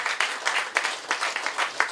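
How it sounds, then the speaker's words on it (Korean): A small audience claps at a campaign office opening. The clapping is fairly close and uneven, with distinct individual claps standing out in a loose rhythm. "박수 한번 보내주십시오"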